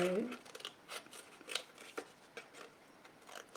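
Scissors roughly cutting red paper for a vintage Christmas journal cover: a run of quick, close snips and crisp rustles at an uneven pace, fairly faint, with a brief voice at the start.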